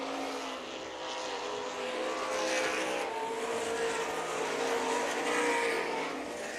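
Sprint cars racing down the front straightaway at an IRA and MSA dirt-track event, engines roaring loud and high-pitched, swelling as cars pass near in a continuous blur of motor noise.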